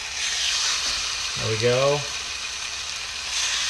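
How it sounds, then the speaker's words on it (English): A chicken breast sears in a hot pan with a steady, bright sizzle throughout, as someone speaks briefly over the frying. "So you're just gonna lay your chicken breast in, you hear that nice little sear."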